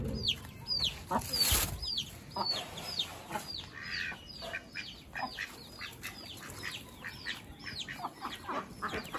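Chickens and young chicks are fed grain and cluck and cheep busily and close by in a rapid, overlapping series of calls, with a brief rustling burst near the start.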